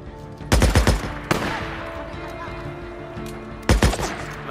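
Gunfire from the video game Days Gone: a rapid burst of loud automatic shots, then a single sharp shot, then another short burst near the end, with ambient game noise in between.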